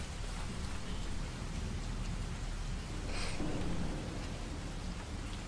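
Steady rain ambience with dense pattering and a low rumble of distant thunder, playing as background atmosphere in a tabletop role-playing game session, constant and even with no voices over it.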